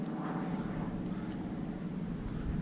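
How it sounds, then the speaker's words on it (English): An airplane drones overhead in a steady, unbroken hum, moderately loud and constant throughout, heard outdoors near a granite cliff and a boat moored at a buoy with no one speaking. "There's a plane flying up there."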